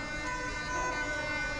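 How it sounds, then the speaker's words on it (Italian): Fire engine sirens wail continuously as they approach a car burning beneath homes, loud and sustained with traffic noise around them. "stanno arrivando i vigili del fuoco"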